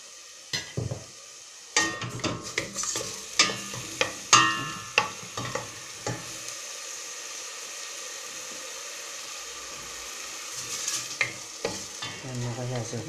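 Oil frying in a pan crackles softly beneath sharp, irregular clinks and scrapes of a utensil stirring against the metal, close and busy early on, then mostly a quiet sizzle before more stirring near the end.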